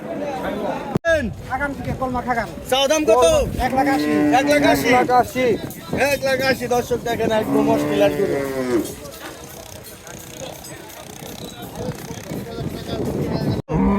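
Cattle low and moo repeatedly amid the crowd at the Hozrotpur cattle market ahead of Qurbani, with busy voices and chatter running under and between the calls throughout.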